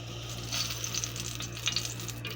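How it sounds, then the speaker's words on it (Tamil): Oil going into a hot, dry pan for a biryani-style dal rice, giving a soft, steady sizzle with brief louder crackling bursts over a low constant hum, close and moderately quiet. "ஒரு 50 ml எண்ணெய் ஊற்றிக்குவோம்."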